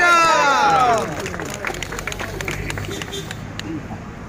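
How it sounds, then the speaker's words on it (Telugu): An audience claps for a swami at a Kondagattu giri pradakshina gathering, with sustained scattered clapping mixed with crowd babble and voices after a brief whistling tone at the start. "గట్టిగా చప్పట్లు వారి కోసం"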